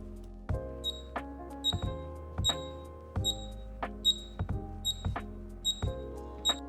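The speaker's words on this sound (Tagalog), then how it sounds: "Ito pala yung tunog ng Ugreen pag nag-play sound ka." A Ugreen item tracker plays its locator sound, a repeating pattern of bright electronic beeps and chirps with clicky percussive attacks, steady and moderately quiet, with no voices.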